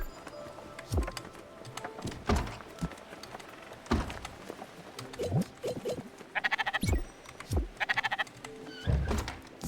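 Bleats from sheep in the video game Spiritfarer, interspersed with soft thunks, light musical chimes and short patterned tones, the cries arriving in repeated bursts at moderate volume against quiet background.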